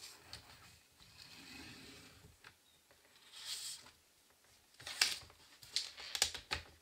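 Paper being creased and folded with a grey scoring tool while making a gift box, heard as soft scraping and crinkling with a few sharper crisp clicks and rustles toward the end, close and fairly quiet, with no talk.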